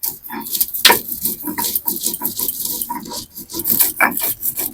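Mustard seeds and green chillies are ground into a paste for a taro (mankochu) dish, giving a close, rough, rhythmic scraping and rasping of repeated strokes on a grinding surface.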